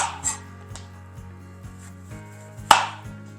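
A knife cuts the ends off an orange on a cutting board with a series of soft, evenly spaced chops over a low steady hum, closing with one sharp, loud knock of the blade against the board.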